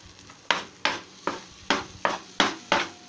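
A spoon scrapes and stirs besan with coconut mawa in a pan, seven regular strokes about half a second apart, each a sharp scraping swish that fades, close and clear with no talk.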